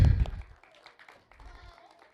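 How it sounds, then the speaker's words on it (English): A short burst of audience clapping for a girl volunteer at a science outreach event, loud at first and fading quickly as talking takes over. "Give her a big round of applause, guys."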